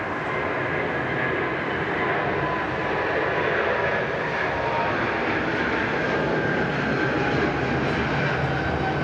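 Jet airliner on a long takeoff roll at Sydney Airport, a loud steady engine roar with broadband rumble holding evenly throughout, no talk.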